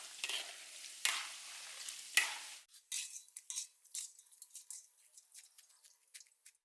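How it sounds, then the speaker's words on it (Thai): Sausages deep-fry in hot oil, a bright hiss for the first few seconds that then breaks into scattered crackles and spatters as they are stirred and lifted out. "ส่วนอันเนี้ย ผมจะทอดรอบเดียวนะครับ"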